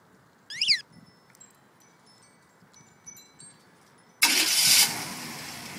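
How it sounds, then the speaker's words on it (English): A carbureted 305 two-barrel V8 in a 1978 Chevy Impala is remote started, with a short chirp from the remote first, then the engine cranks and catches with a loud close roar after a few seconds of quiet. "Let's test the remote start out on a carbureted motor."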